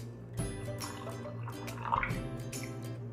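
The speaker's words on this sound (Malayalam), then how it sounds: "അത് നമുക്ക് ഒരു കുറച്ച് ഇതിലേക്ക് ഒഴിച്ച് കൊടുത്ത് നോക്കാം" Water poured from a mixer jar splashes into batter for Malabar kinnappathiri, making soft irregular drips and liquid splashes, close and fairly quiet, over a steady low background hum.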